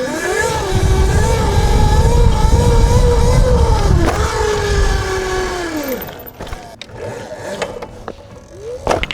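A 13 kW 84V electric dirt bike pit bike with a new TruMoto controller is ridden nearby, its motor whine rising and falling with throttle over wind rush, then dropping off to clunks and rattles as it slows.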